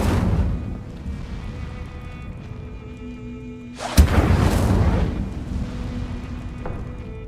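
An Incendio fire spell is cast in a video game: a sudden loud whooshing burst erupts midway and trails off into a rumbling roar over a low, steady game ambience.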